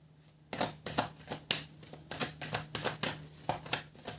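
A tarot card deck being shuffled close by, with a rapid series of crisp riffling bursts in a steady rhythm, no voices.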